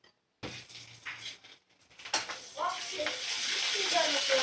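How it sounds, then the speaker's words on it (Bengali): Ginger-garlic paste and cumin paste with spices sautéing in a pan for biriyani, a hiss that builds into a steady, close sizzle after a few clinks and stirring sounds. "মশলাটা ভালো করে কষিয়ে নেব।"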